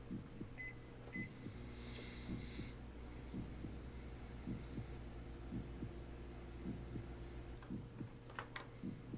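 Heartbeat effect from a visual novel game: a steady low thumping pulse repeating about once a second over a constant low hum, quiet and even throughout.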